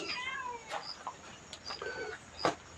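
A cat meowing at a Thai temple, several short mewing calls, faint and distant against a noisy outdoor background, with a sharp sound partway through.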